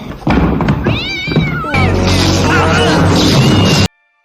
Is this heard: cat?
yes